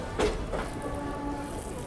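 A local MEMU passenger train passing at a railway station, heard as a soft, brief rumble of moving rail cars with a faint whistle-like tone, fairly quiet and distant, with no voices.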